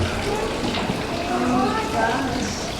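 Steady rushing water from a small indoor waterfall in La Posta restaurant, Old Mesilla, splashing continuously under a busy room with voices in the background.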